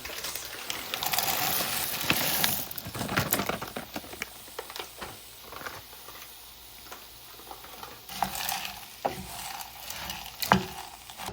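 A package of frozen peas goes into a pan of cottage pie vegetables, giving a soft sizzle under clicking and scraping stirs, moderately close with scattered sharper taps.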